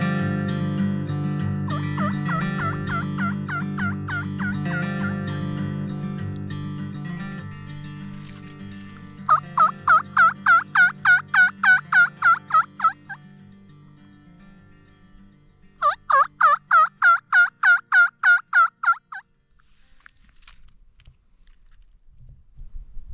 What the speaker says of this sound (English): Turkeys are gobbling.